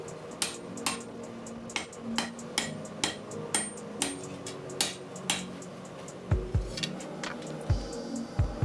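Steady hammer blows ring on an anvil as a leaf spring seax blade is straightened, evenly spaced sharp metallic strikes roughly every half second, close and clear, with a few heavier thuds near the end.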